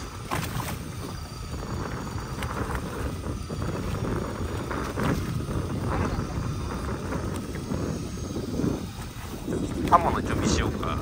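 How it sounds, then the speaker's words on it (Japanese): Strong wind buffets a deep-sea fishing boat at sea, a loud, steady roar with gusting surges and low rumbling thuds that fill the whole stretch, with faint voices beneath. "釣り上げた途端もう風バンバン吹かせる"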